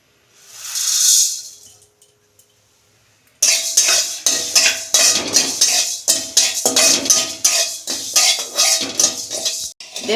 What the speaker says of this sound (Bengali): এই যে কড়া বসিয়েছি, আমি ধনে জিরেটা একটু ভেজে নেব।